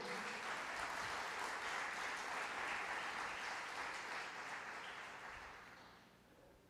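A church congregation applauds during a sermon, a broad wash of many hands clapping at moderate distance that holds steady and then fades out toward the end.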